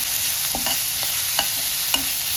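Crushed garlic sizzles steadily in hot oil for Marathi tomato chutney, with a spoon scraping and stirring the pan in a few distinct strokes over the constant frying hiss.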